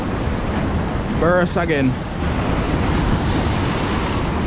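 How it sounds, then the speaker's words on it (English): Rough sea surf washes and roars steadily across the whole stretch alongside heavy wind buffeting the microphone at an Australian fishing spot, with a brief spoken phrase partway through. "Especially when the sea is rough like this."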